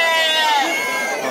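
A goat bleats with a wavering, harmonic cry at a crowded livestock fair in Tabira, Pernambuco, where goats and sheep are sold, sounding close and loud over steady background chatter of people.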